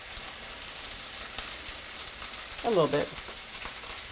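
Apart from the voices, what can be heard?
pork sizzling in a pan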